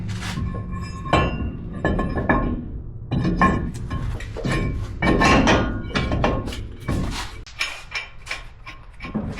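A brake rotor on a 2018 Ram 3500 is lifted and seated onto the hub bolts, giving a run of close metallic clinks, knocks and scrapes in irregular bursts.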